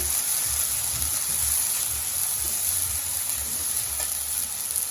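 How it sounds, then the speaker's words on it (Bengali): Garlic paste, ginger paste and chili fry in a pan with a continuous, dense sizzle and a low rumbling bubbling underneath, held steady and close throughout. "রসুন বাটা তারপরে আদা বাটা সামু মরিচ সব একসাথে দিয়ে দিচ্ছে দিয়ে ভালো করে কষিয়ে নেবে"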